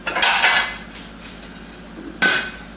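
A rice cooker pan and a plate clatter together as a banana bread is turned out, with two sharp metallic knocks, one at the start and one near the end, and some lighter handling noise between them.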